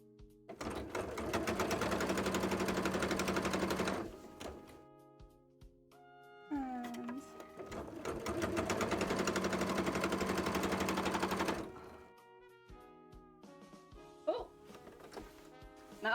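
Sewing machine stitching cosplay fabric in two long, loud, steady bursts of rapid stitching, each about four seconds, separated by pauses filled with light handling clicks and knocks.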